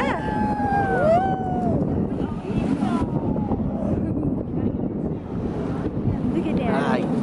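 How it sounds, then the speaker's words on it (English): Strong wind buffets the microphone at an open beach, with a constant rushing roar of waves and surf beneath it and a few brief high-pitched voice sounds near the start. "We're at the beach."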